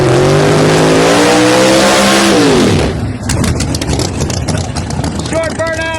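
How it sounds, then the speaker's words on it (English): A drag race car at a ProMod qualifying round at Darana Dragway roars loudly through a short burnout, engine note rising then cutting off abruptly, followed by a rougher, crackling idle with faint whines near the end. "Short burnout"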